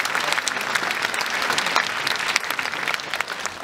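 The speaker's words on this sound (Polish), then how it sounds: "Marcin Dorociński w roli Despero, trzymamy brawa, teraz jest wejście na scenę, Marcin Dorociński," Loud, continuous applause from a big audience at a film premiere as actors come on stage, dense and even throughout, with no talking over it.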